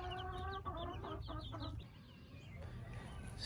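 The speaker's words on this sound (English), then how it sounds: "there's a chicken that started to lay in this corner" A hen in a backyard coop with a feeder, giving a run of clucks and short squawks up close, then fading into quieter rustling and soft murmurs.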